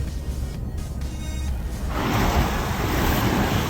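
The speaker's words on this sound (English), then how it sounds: "A little bit of a splash here." A 4x4 driving through beach water near a resort on Solitary Island sends up a broad, loud splashing surge that swells midway and holds steady over wind and surf, with no voices.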